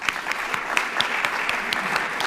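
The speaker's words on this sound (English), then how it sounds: "So big, big, big clap for her." A symposium audience claps steadily for someone being thanked, a dense even round of applause at close range.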